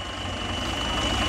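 A farm tractor pulls a hayride up toward a pasture, its engine giving a steady, even low rumble and broad noise throughout, fairly close, with no voices.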